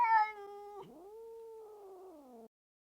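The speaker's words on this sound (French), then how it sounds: "le chat veut sauter sur la table, mais en plus il miaule à la mort devant le frigo" A cat meows loudly near a fridge, one long, drawn-out wailing meow that starts strong and fades slightly before stopping abruptly, alone with no other sounds.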